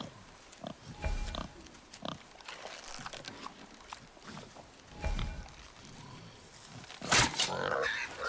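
A boar creature in God of War III squeals in short bursts, one loud shriek near the end, over game ambience with talk.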